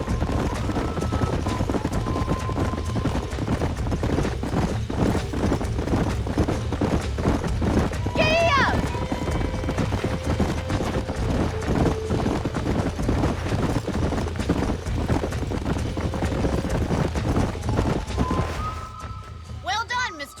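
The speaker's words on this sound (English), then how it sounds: "These are fine horses." Horses' hooves clip-clop steadily in Red Dead Redemption 2, a continuous loud rhythmic trotting with a brief whinny partway through and people speaking over it.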